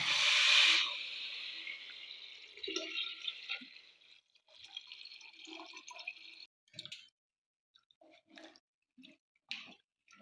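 Water is poured onto raw ration rice in a cooking pot: a short, close splashing pour at the start, then scattered drips, trickles and small clinks against a quiet background.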